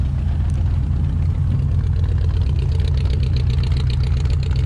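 A 1968 Ford F100 pickup's V8-style engine idles steadily and loud up close, a constant low rumble with slight roughness and no talk over it.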